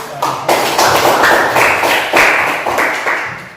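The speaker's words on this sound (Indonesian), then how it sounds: "Tepuk tangan dulu untuk" A classroom of high-school students in a Catholic religious education lesson claps together in a loud, steady burst of applause that swells and fades in uneven waves for a few seconds.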